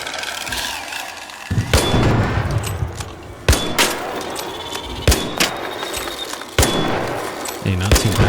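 Repeated loud gunfire from a Renegade weapon aimed at ARC enemies in the ARC Raiders video game, several heavy shots in bursts with booming thuds between them, over a continuous game background.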